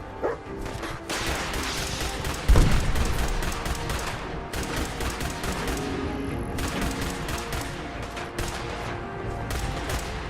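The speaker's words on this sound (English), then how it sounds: "Yeah, you guys are shooting me." Dense, continuous gunfire from the virtual-reality game Fallout 4 in survival mode, with rapid overlapping shots and bursts filling the whole stretch at loud, steady volume and a sharper blast partway through.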